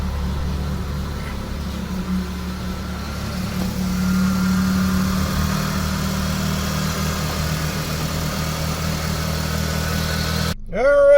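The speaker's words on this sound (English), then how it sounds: "All right, we're idling good." A car engine fitted with NGK Ruthenium spark plugs idles steadily in one spot, a low constant hum that holds evenly throughout before a brief louder burst right at the end.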